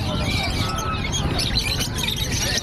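Mutation-bred cage birds chirp and tweet in a busy jumble at a bird market in Bocaue, high calls layered over steady background noise.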